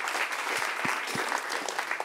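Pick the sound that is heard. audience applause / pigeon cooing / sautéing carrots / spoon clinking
audience applause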